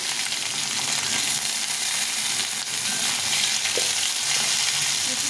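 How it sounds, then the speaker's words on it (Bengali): Onion and garlic fry in hot oil in a pan with bay leaf for a spiced masoor dal, giving a steady, close, dense sizzle throughout with no talk. "কয়েকটা রসুন আর এই পেঁয়াজটা দিয়ে ভালো করে ভেজে দেবো।"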